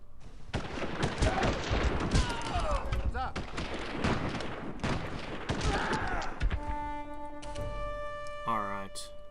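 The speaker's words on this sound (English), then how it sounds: "The artillery." Artillery fire in the strategy game Civilization 4 Realism Invictus, a dense rapid barrage of booms and crackles that fills most of the clip, followed by a short game tone, with a voice speaking over it.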